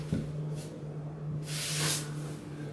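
A spray paint can fires through a medium-thickness cap in a short hissing burst, loud and close, after a fainter brief puff.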